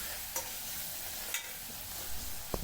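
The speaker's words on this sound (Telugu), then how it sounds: "ఇప్పుడు బాగా ఆయిల్లో బాగా ఫ్రై అవుతుందండి" Mutton pieces frying in oil for a Rayalaseema-style dry mutton curry, heard as a continuous close sizzle with a few brief scraping stirs.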